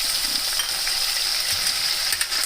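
Soaked moong and toor dal with basmati rice being stirred in a hot pan with ginger and curry leaves for vegetable khichdi, a steady close sizzle with faint scraping and stirring clicks, no talking.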